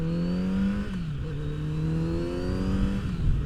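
A Kawasaki Z900 RS motorcycle engine runs at a steady, loud drone. The pitch dips briefly partway through, then holds even and close with no talk.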